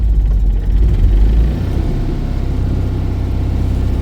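A Citroën 2CV's small two-cylinder engine runs just after starting, loud and close, a dense low thrum that settles from a brief higher rev into a steady idle.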